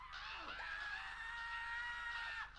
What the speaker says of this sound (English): Just listen to their screams!